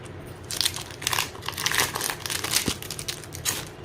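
A plastic bag holding a planner sticker kit is pulled open up close, with bursts of loud crinkling and rustling coming in uneven waves.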